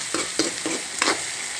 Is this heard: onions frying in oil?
yes